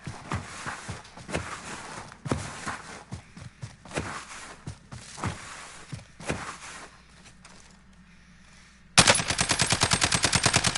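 Gunfire in the video game Warzone, bursts of automatic rifle shots with footsteps between them, then a sustained rapid-fire burst at the end, loud and close.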